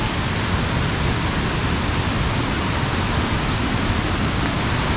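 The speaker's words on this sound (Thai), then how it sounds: "ตรงนี้ก็คือน้ำตกชั้นที่3นะคะ" Third tier of Huai Mae Khamin waterfall in Kanchanaburi: a constant, dense roar of falling water filling the whole clip, steady and unbroken, with no voices.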